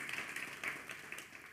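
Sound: audience applause

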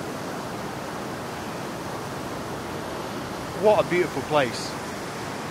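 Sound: mountain river flowing near a campsite

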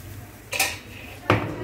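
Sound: mixing boiled egg in a dish

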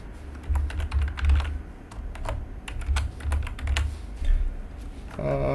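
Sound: typing on a computer keyboard

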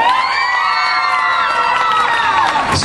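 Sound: audience cheering and applauding for Daniela on the applause meter

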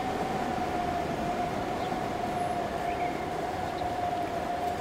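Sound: timber freight train passing in Transport Fever 2 video game

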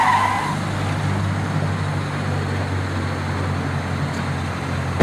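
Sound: car reversing and skidding

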